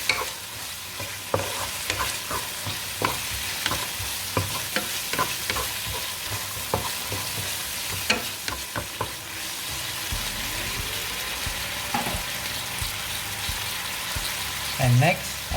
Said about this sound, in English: Now let's mix them all together.